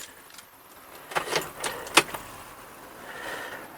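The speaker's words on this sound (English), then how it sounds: "There's my keys." Keys jangle close by in a quick cluster of bright metallic rattles, then fall quiet, in a motorhome while a stereo is being fitted.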